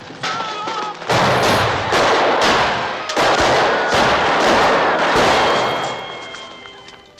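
Rapid gunfire from police and crime film scenes, loud and dense, with overlapping bursts and volleys that run almost continuously before easing off near the end.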